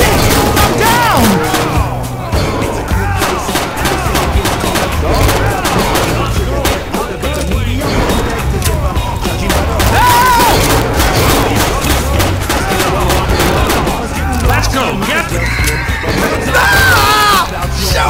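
Chaotic Left 4 Dead 2 combat in the Dark Woods campaign: a grenade explosion amid rapid, loud gunfire bursts and crowd noise, with shouting voices and game sounds overlapping throughout.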